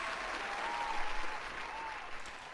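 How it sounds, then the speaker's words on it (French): Quiz participants applaud themselves, a steady, fairly soft wash of clapping from a small group that holds evenly throughout. "Vous pouvez vous applaudir."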